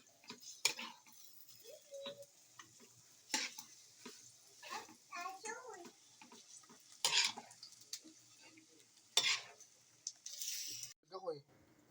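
A spoon stirs a pan of low-budget spaghetti sauce with scattered scraping and clicking strokes and a faint sizzle underneath, close by, while a person talks between the strokes.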